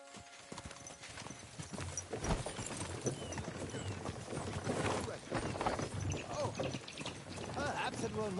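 Horse hooves clip-clop in a steady trotting rhythm as a rider moves through Kingdom Come: Deliverance 2, close and continuous, with a brief whinny and voices talking over the hoofbeats.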